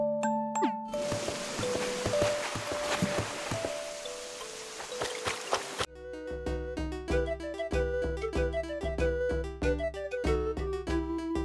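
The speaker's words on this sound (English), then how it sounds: "I love the sound of this shell music box." Shell music box in Animal Crossing: New Horizons chiming a bright melody of plinking notes, first over soft watery ambience, then as a clear, steady tune with a rhythmic backing.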